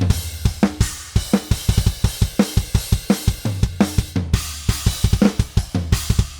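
Raw, unmixed virtual metal drum kit built mostly from the Metal Machinery library with cymbals from Death and Darkness: a steady pattern of punchy kicks and snares under a constant wash of cymbals, loud and dry, with no voices.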